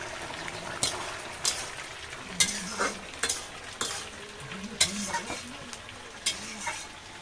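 A homemade curry fries in a pan after green chillies are added, crackling steadily under repeated stirring, with a metal spoon clinking and scraping the pan at an uneven rhythm.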